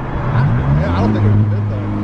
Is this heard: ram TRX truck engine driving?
yes